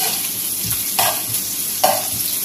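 Onion and garlic fry in a pan under a constant bright sizzle, with occasional stirring scrapes and a couple of louder clatters, close and loud, with no talk.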